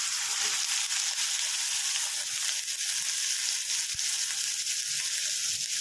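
Potatoes tossed into hot oil with a little cumin for a papaya malaikari, giving a steady, close sizzle that holds at an even level throughout with no pauses.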